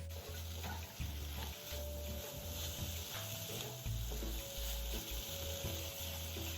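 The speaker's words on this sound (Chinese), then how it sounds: "再次将食材与调味料一起炒匀" Ingredients and seasonings stir-fried in a wok, with a steady sizzle and scraping of the spatula running continuously, close and moderately loud, alone without voices.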